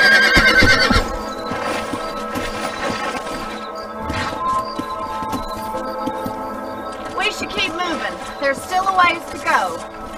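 Horses whinny and clop along in Red Dead Redemption on PS3, a loud neigh opening the scene followed by hooves and further whinnies near the end, mixed with game sounds.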